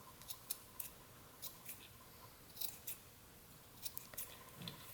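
Small scissors snip repeatedly at a yarn bird's tail, trimming loose strands; a dozen or so quiet, crisp cuts come in uneven bursts, close up, with no talking.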